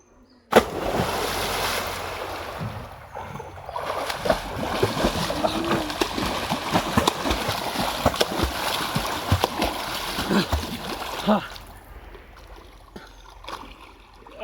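A person jumps into a fast-flowing water canal at home, with a sharp splash at the start followed by steady rushing, churning water and splashing for about eleven seconds before quieting.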